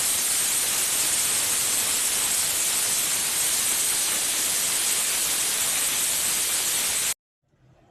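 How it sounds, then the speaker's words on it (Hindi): A pressure cooker cooking chickpeas releases a continuous loud steam whistle, a steady hissing rush that holds for about seven seconds before cutting off abruptly into near silence. "यहाँ जो है कुकर की विसल कंटिन्यूसली बज रही है"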